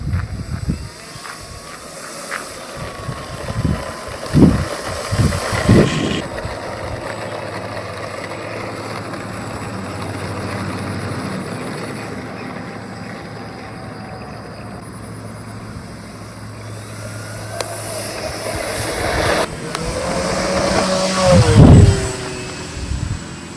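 An RC scale Bonanza A36 model airplane with retractable gear flies overhead, its electric motor whine rising and fading as it passes, growing louder near the start and again toward the end against outdoor background noise.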